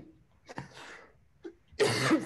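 A few close, harsh coughs, a short one early, a smaller one later and a louder, rougher bout at the end, with no talking.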